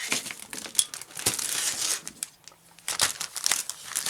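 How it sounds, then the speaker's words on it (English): A very big resealable plastic bag from a 1/35 scale 7TP light tank model kit crinkles and crackles close up in irregular bursts, with a short lull midway before the rustling resumes. "Very big plastic bag, as you can see."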